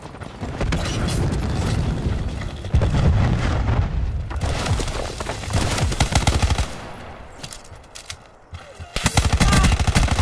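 Cluster grenade blasts and gunfire in Black Ops 4 on the Elevation map: dense, loud bursts of automatic fire and booming detonations fill the whole stretch, with a brief dip before a final surge.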